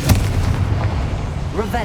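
Confringo fire spell in Hogwarts Legacy blasting, a sharp explosive burst followed by a rumbling boom and crackle, with a brief voice near the end.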